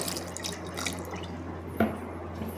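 Quiet trickling and dripping of a bowl of water being added to ground raw mango, with one sharper splash near the end, under a steady low hum.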